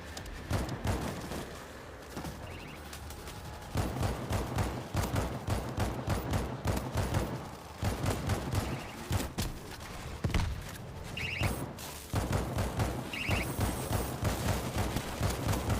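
Sustained machine-gun fire in the video game World War Z: Aftermath, loud rapid bursts pounding almost without pause across the whole stretch, with only brief gaps between volleys.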